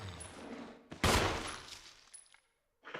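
A single loud gunshot with a crackling burst and decaying tail in the survival horror game Resident Evil Remake on the Wii, played on hard mode as Chris, heard close and alone with quieter game sounds before it.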